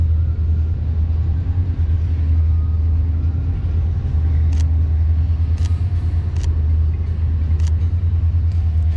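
A Corvette C6 idles and creeps forward during an outdoor photoshoot, a deep steady engine rumble close by with a few faint clicks over it.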